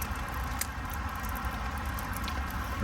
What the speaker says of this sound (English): rain on the tarp, folks, rain on the tarp